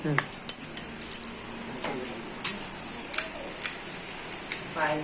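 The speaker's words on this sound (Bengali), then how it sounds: "এই যে আরেকজন পেঁয়াজ কুচি করছে।" Knife taps against a board while onion is chopped in a home kitchen during lunch prep, a string of light, sharp clicks at an uneven pace, close by, with faint background voices.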